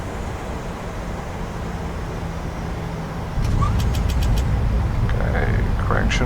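Boeing 737-700 in a flight simulator rolling out after landing with thrust reversers deployed, a steady low engine roar that swells suddenly partway through, with faint clicks and a brief voice over it.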